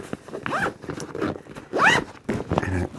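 Zipper on a Pakt Cero 35L travel bag, pulled in several quick rasping strokes with brief pauses between them, close and crisp against a quiet room.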